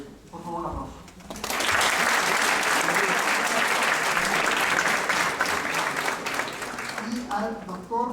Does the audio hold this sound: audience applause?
yes